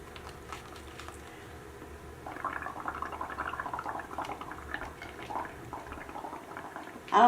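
Water poured into a bubble mixture, a soft liquid trickling and bubbling that rises partway through and continues at moderate level, ending in a brief louder knock.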